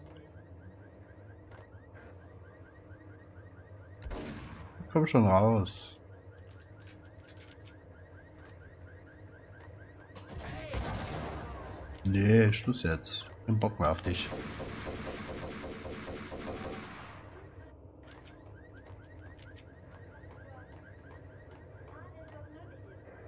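Gunfire in the video game Max Payne, with a short burst early and a longer run of shots later, heard over a quiet background with someone talking casually between them.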